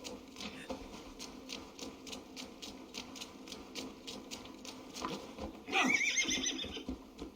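An Assassin's Creed Valhalla horse gives a loud, high whinny that falls in pitch, with rhythmic hoof clip-clops and light mechanical clicking behind it.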